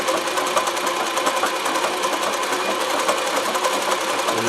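A Consew CN2053R-1A industrial sewing machine, set in a domestic treadle table, runs continuously with a loud, close, rapid mechanical clatter and a steady noisy drone throughout.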